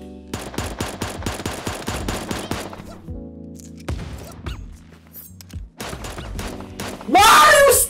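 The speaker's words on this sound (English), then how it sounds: "Somebody has a minigun." A minigun in the Super Animal Royale video game fires long, rapid, loud bursts of shots, followed by a few heavier thuds and a harsh burst of noise near the end.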